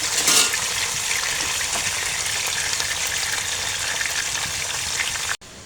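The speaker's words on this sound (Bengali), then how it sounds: "জাস্ট হালকা করে ভেজে নেব, বেশি ভাজবো না, কারণ মাছ না বেশি ভাজলে পরে খেতে ভালো লাগে না।" Koi fish sizzle and crackle in hot oil in a pan, a dense, steady frying hiss close by that stops sharply near the end.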